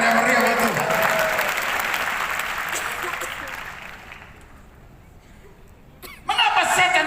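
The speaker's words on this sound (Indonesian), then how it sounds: "Mereka tepuk tangan yang meriah buat Tuhan." A church congregation applauds loudly, a dense burst of clapping that gradually fades into quieter room sound before a fresh wave of applause breaks out near the end, with some voices mixed in.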